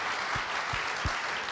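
An indoor audience at an evening gala in the Sparkassen-Carré in Tübingen applauds a guest walking onto the stage, a brief, dense burst of steady clapping.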